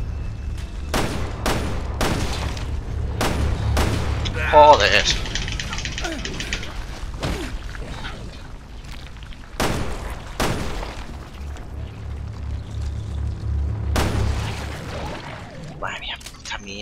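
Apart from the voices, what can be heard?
gunfire in video game Resident Evil Revelations 2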